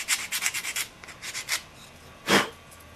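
A homemade sanding tool rubs against a wooden fingerboard in short, quiet back-and-forth strokes, a quick burst of scratchy passes followed by a few spaced strokes and one louder rasp near the end.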